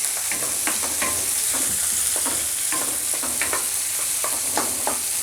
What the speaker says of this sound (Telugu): ఇలా యాడ్ చేసి బాగా ఫ్రై చేసుకోవాలి.